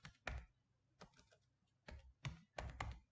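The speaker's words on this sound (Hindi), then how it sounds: "शिफ्ट एंटर करता हूँ" Computer keyboard keys pressed for a Shift+Enter command, a handful of distinct close clicks and taps spaced irregularly with quiet gaps between them.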